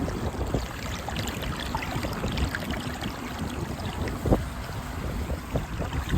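Water swirling down a blocked drain like a whirlpool, a steady rushing and gurgling wash with scattered splashy bursts, continuous and close, with no talk.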